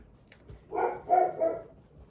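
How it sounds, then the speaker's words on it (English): A dog named Sally gives a short bark indoors during rain, a single muffled burst of two or three quick yelps at moderate distance, faint and brief. "I think Sally's just barking at the rain"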